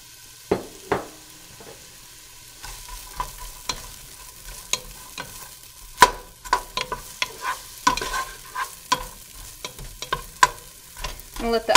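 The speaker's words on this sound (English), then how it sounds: "My onions have been cooking over a medium-high heat for probably about 2 or 3 minutes." Diced onion fries in olive oil in a pan over medium-high heat, with a soft continuous sizzle broken by repeated sharp scrapes and clinks of a spoon stirring, close and moderately loud.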